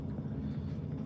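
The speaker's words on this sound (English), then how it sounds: "Do you guys hear that drone?" A drone flies overhead above the frozen Fox River during ice fishing, a steady low droning hum that holds level throughout, fairly close and unbroken.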